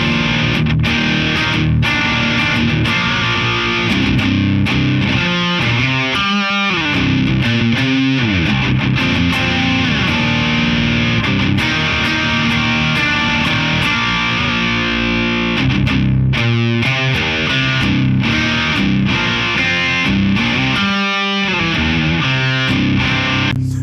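Overdriven electric guitar through a Figure 8 FX Bicep Vaporizer pedal with the drive at 9 o'clock. Loud, continuous distorted riffs and chords are broken by brief muted chugs and play without any talk.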